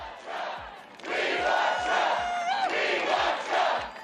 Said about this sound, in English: A crowd chanting "We love Trump" is just.